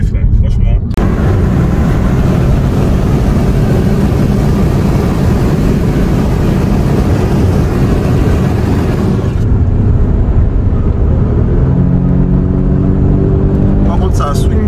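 Audi sports car, an S3 or RS3, driving with a steady, loud engine and road roar throughout, the tone shifting partway as if changing speed or gear, with people talking over it.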